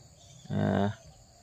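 A single long, deep moo from a cow, close by and loud, lasting about half a second against a quiet rural background.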